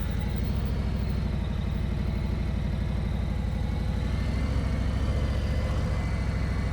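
Motorcycle engine held at low RPM around 1500–1600 during slow-speed riding practice, a steady throbbing idle-like putter close to the listener, continuous and even with no talk.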